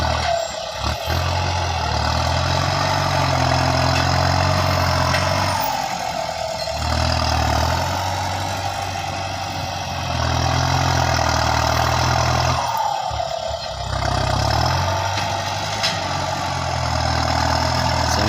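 A heavy Kubota M9000 diesel tractor engine idles with a low, throbbing rumble, its pitch dipping and rising slightly a few times over a long steady run.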